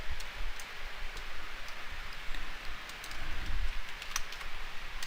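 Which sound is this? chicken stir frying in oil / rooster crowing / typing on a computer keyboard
typing on a computer keyboard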